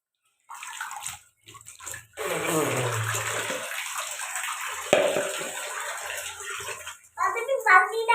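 Someone bathing splashes and pours water in a steady, close wash, with a voice and other talk heard at the start and end.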